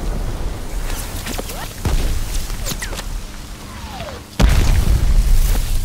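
Artillery shell explosions on the D-Day level of a video game, with deep booms hitting in bursts amid whooshes and battlefield noise, the loudest blast arriving near the end.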